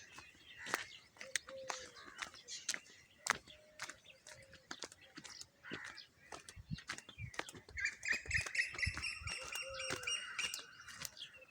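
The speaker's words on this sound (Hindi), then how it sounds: "सुबह सुबह परिंदों की चहचहाने की आवाज़ें आ रही हैं।" Morning birdsong in a village: scattered chirps and tweets throughout, with a denser burst of high twittering near the end, moderately faint and outdoors.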